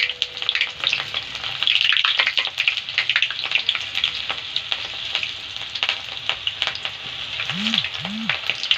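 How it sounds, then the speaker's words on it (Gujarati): Chickpea-flour-battered chillies and potatoes sizzle steadily in hot oil, a continuous crackling hiss with frequent small pops, and a couple of low brief tones near the end. "તળાવવાનું ચાલુ થઈ ગયું છે તેલમાં"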